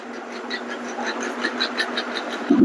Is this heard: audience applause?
no